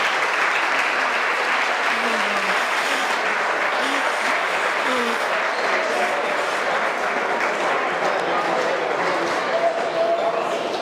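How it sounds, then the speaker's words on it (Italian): Stadium crowd applauds the 22 players after a high-tension football match, a dense, steady roar of clapping with scattered whistles and shouts, sustained and loud from start to finish. "22 ragazzi che vanno a prendersi il meritato applauso per"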